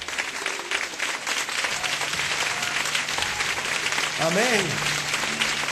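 A church congregation claps steadily in a large room, a full sustained patter of many hands, while a voice calls out briefly and a sung or shouted tone rises near the end.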